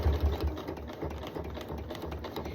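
A sewing machine stitches a winter coat pocket in a quiet, steady mechanical patter, with a few low thumps at the start and a continuous faint motor buzz, no talk.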